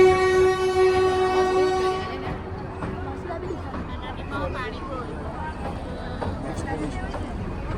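A 110-year-old narrow gauge train on the Bilimora to Waghai line in Gujarat pulls into Unai Vansda Road station. A loud horn blares for the first few seconds, then the carriages rumble and clatter as they roll in, with voices nearby.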